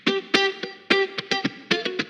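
Funky guitar from a Fender Telecaster with reverb plays choppy, rhythmic strummed chords and muted scratches in a syncopated groove, bright and close with short reverb tails.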